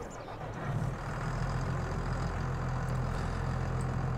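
Landini 7 Robosix tractor engine running in Farming Simulator 22, a steady low diesel idle that swells slightly after the start and holds at a moderate level without talk.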